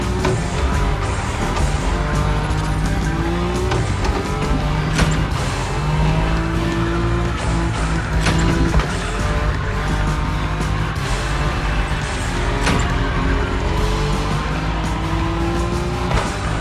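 A Nissan Nismo drifts at high speed in the racing game The Crew Motorfest, its engine roaring loudly and continuously with rising and falling pitch as the tires squeal through long slides.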